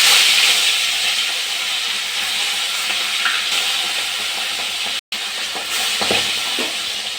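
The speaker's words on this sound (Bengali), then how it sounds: "আমি এবার সর্ষের তেল দিয়ে দেবো। তেলটা গরম হয়ে গেছে," Fish frying in hot mustard oil in a wok, giving a loud, close, continuous sizzling hiss that runs steadily throughout with one brief cut-out near the end, no talk.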